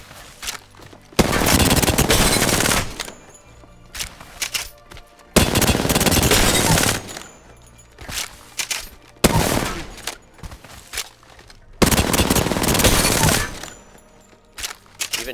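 Automatic weapon spray fire at the Apex Legends firing range, fired in four long, loud sustained bursts separated by short quiet pauses, with no talking.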